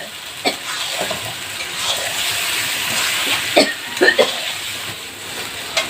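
Duck meat hits hot spiced oil in a pan over an earthen stove and sizzles with a steady hiss, broken by scraping stirs and a few sharp clacks of the spatula.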